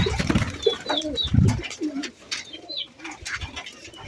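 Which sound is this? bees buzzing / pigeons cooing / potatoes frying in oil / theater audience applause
pigeons cooing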